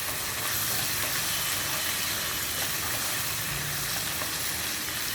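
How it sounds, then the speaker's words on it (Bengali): Ginger and garlic sizzle steadily in a hot pan, a continuous close frying hiss with faint stirring scrapes and no voices. "আমরা আদা এবং রসুনটা একটু ভেজে নিব"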